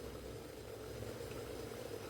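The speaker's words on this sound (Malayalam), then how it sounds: "നമ്മളെ വെള്ളം ഇവിടെ തിളച്ചിട്ടുണ്ട്" Water boils in a pot, producing a steady low bubbling rumble, continuous and moderately quiet, with no voices over it.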